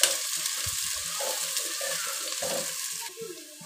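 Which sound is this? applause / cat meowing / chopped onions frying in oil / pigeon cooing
chopped onions frying in oil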